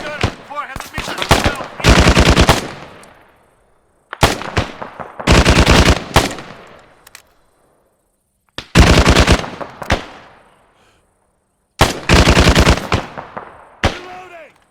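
Machine gun fire in the ArmA 3 video game comes in four loud, close bursts of rapid shots. Each burst stops abruptly and is separated by short silences.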